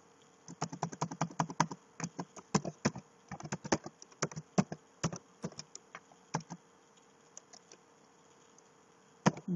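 Close, crisp typing on a computer keyboard: quick runs of keystrokes that slow into scattered single taps against a quiet background.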